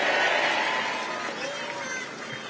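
A crowd at a political campaign rally in Yongin applauds for a candidate, with broad, dense clapping and cheering that is loudest at the start and slowly fades over a couple of seconds.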